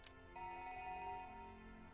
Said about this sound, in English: Abruptly, Maria's cell phone rang in Stanley's pocket.